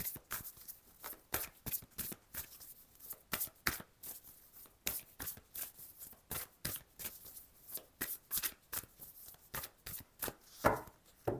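Tarot cards shuffled by hand in a steady run of crisp riffling bursts, close and moderately loud, with short pauses between flurries and no talking.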